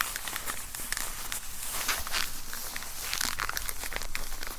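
Close, continuous crinkling and soft rustling with irregular crackles, like padded headphone ear cushions being squeezed and handled near the ear.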